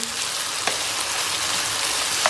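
Tomato paste fries in a pan with peppers and halved garlic cloves, producing a loud, dense, steady crackling sizzle close up with a faint tap or two.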